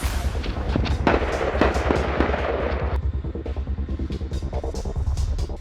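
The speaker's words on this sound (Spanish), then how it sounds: "se oyen 12 disparos" A rapid series of sharp gunshots, twelve shots during a police operation in Chile, cracks over a low rumble, several loud reports early on followed by quicker, fainter bursts.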